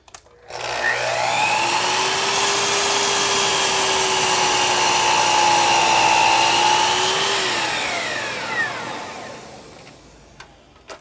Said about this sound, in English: So let's make a cut, and you can actually now see some of this dust extraction.